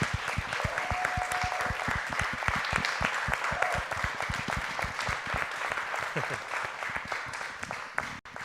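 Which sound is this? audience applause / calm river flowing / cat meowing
audience applause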